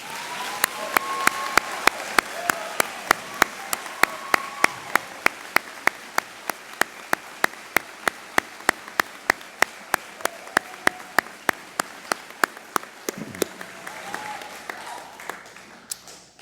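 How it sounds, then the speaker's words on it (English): Crowd at a university commencement ceremony applauds the graduates in a sustained round of clapping, dense and steady, with a scattering of sharp individual claps standing out and the applause thinning toward the end. "May we have one final round of applause for all of our graduates."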